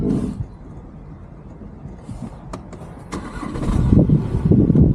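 A car engine cranks and catches, then settles into a steady rumbling idle that grows slightly louder toward the end.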